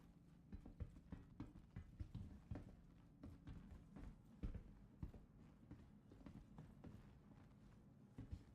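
Rapid, uneven footsteps in the Star Citizen Arena Commander game, a steady string of light thuds and taps at moderate volume, with no talk over them.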